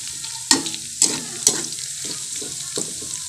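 Garlic and onion sautéing in oil in a home kitchen, a sizzling hiss punctuated by several sharp spatula clacks against the pan at roughly half-second intervals.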